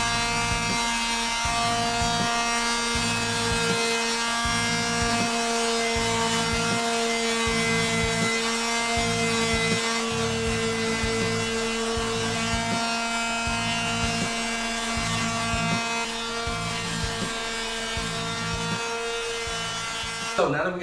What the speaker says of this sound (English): let the Bondo dry, and then we go ahead and hit it with the sander